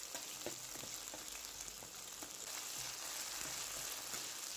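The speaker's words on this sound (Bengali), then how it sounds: "ওই পেস্টটিকে আমরা তেলের মধ্যে দিয়ে দেব, দিয়ে একটু কষিয়ে নেব" A paste of ginger, green chilli and cumin fries in hot oil with a steady, dense sizzle, broken by faint scrapes and clicks of stirring throughout.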